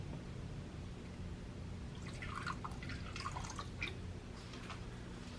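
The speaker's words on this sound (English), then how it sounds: "find a good spot for them in each enclosure, and fill them with some water" Water poured into Exo Terra water dishes inside a gecko terrarium, soft splashing and trickling that begins partway through and comes in short, uneven bursts over a faint background hum.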